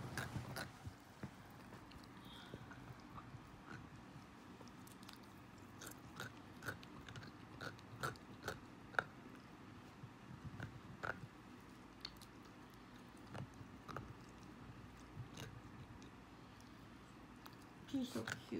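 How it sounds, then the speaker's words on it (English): A five-month-old puppy chewing on a new bone: faint, irregular crunches and gnawing clicks recurring close by over quiet room ambience for the whole stretch. "she's chewing on a new bone"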